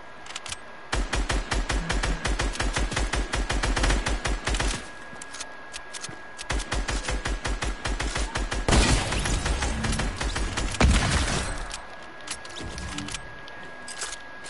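Rapid bursts of video game gunfire crackle in dense strings of sharp shots, several volleys separated by brief pauses, loud and close with no talking.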